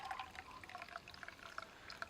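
Coffee poured through a sieve into a cup outdoors on an off-grid winter morning, a quiet continuous trickle with small bright drips, close and soft, no talking.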